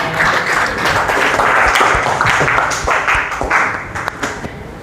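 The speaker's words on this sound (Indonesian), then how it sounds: "tepuk tangan untuk Keisha" Classroom applause for a student during a university SEO and SEM lesson: a brief burst of many hands clapping, loud and dense, tapering off near the end with a few scattered claps.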